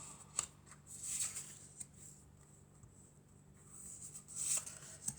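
Cards being shuffled and drawn one by one for a French-language general and romantic tarot guidance reading, with soft riffling bursts near the start and end separated by quieter handling, close and faint, with no talk.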